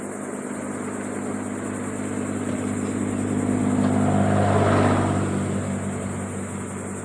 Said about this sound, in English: I got the throttle all the way pegged right now